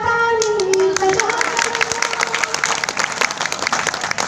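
Audience applause at a Hindi comic poetry recital (hasya kavi sammelan) breaks out as a dense burst of many hands clapping, loud and sustained for several seconds after a sung line fades.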